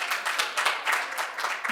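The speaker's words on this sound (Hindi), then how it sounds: "दोस्तों के नाम जोरदार ताली हो जाए एक बार जी" Audience applause at a Hindi poetry recital, a steady wash of many hands clapping at close range, continuous and fairly loud, with no voices over it.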